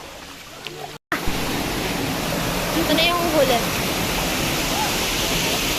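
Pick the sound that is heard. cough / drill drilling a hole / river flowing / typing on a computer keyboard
river flowing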